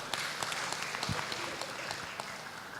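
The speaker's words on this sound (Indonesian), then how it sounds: "Tepuk tangan Bapak." Applause from an audience at a national seminar and civic dialogue, a steady wash of many hands clapping at moderate volume with scattered sharper claps throughout.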